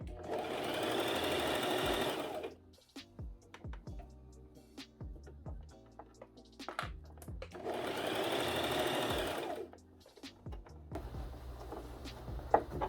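A sewing machine whirs in two bursts of steady stitching, close by, separated by clicks and handling noises.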